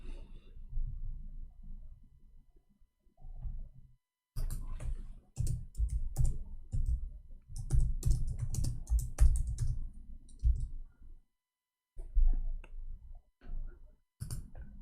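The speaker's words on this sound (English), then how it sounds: "Okay, I will type 2021." Someone types on a computer keyboard in close, uneven bursts of keystrokes, broken by short pauses of silence.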